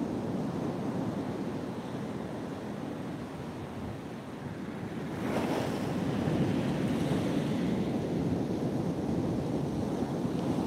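Strong northerly wind of around 40 mph buffets the microphone on a shore-fishing beach at Trimingham, mixing with a constant heavy surf roar, swelling louder halfway through, close and unbroken with no talk.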